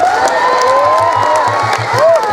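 Crowd at a humorous Sundanese religious sermon cheering and clapping together, loud and close, with whoops and shouting voices riding over steady rhythmic claps.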